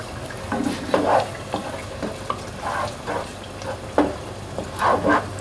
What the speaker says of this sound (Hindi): अब जो प्याज लहसुन की पेस्ट बनाई थी वो इसमें डाल देंगे।